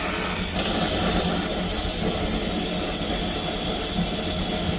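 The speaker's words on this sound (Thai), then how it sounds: "น้ำเริ่มเดือดแล้ว" A steady, dense hiss and low rumble of water with lemons boiling hard in a pot, continuous and fairly close, with no talking.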